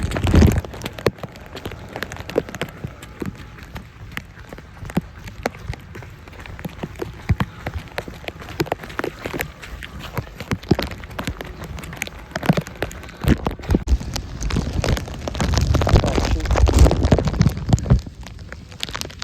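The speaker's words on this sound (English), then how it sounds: "The only person crazy enough to go out here in the rain and run." Heavy rain pours during a run outdoors on a flooded Los Angeles street, a constant close hiss broken by irregular thumps and bumps that build toward the end.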